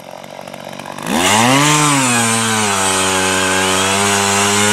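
An Earthquake E43 gas auger roars to life after a quieter idle, its engine pitch rising and settling into a loud, steady drone as it bores a hole in the ground, close and continuous with no talk.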